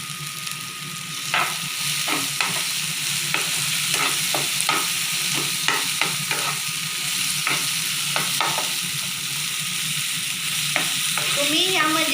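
Tomato masala for soybean kheema, with turmeric and coriander powder added, sizzles steadily in a pan while a spoon scrapes and stirs it in quick, irregular strokes, close and clear throughout.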